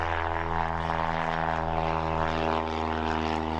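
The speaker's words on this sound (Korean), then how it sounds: "과연 경비행기 이착륙 시 얼마나 큰 소음이 날까요?" A light propeller aircraft taking off or landing near a residential area gives a steady, loud, droning engine hum that holds without a break, with no voices.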